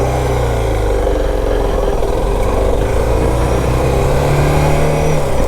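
A Suzuki DR650 motorcycle engine drones loud and steady during a ride, rising slightly in pitch toward the end, with wind rushing over it.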